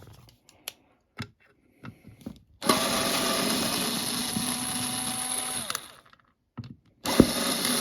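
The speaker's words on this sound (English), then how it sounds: "So we're going to take off these two screws" A power screwdriver or drill backs screws out of a pinball arcade coin door, a loud steady whir lasting a few seconds, framed by scattered clicks and metal handling noises up close.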